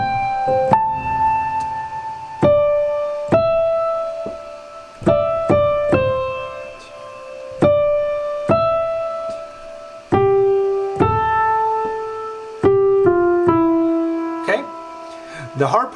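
Melody line of the hymn Come Thou Fount played on top of chords on a keyboard instrument, a clear, loud, close lesson demonstration with sustained struck chords and notes decaying between attacks, no talking.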